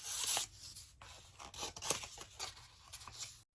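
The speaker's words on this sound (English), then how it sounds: "So I'm going to continue sanding this until I'm happy with it." A decorative wooden plate is sanded by hand, giving steady, close rasping strokes of sandpaper on wood that repeat in an uneven back-and-forth rhythm with no voices.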